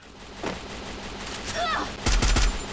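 Gunfire in the mobile battle-royale game Free Fire: a few scattered shots early on, then a loud cluster of rapid bursts near the end, with faint game effects between.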